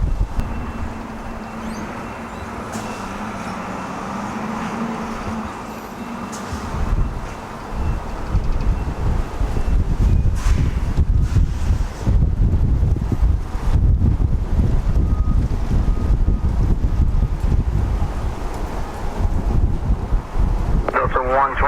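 Strong gusty wind buffets during an aircraft landing on runway 31 right in gusts up to 20 knots, a loud, continuous roaring rush that swells and surges throughout, with no talk.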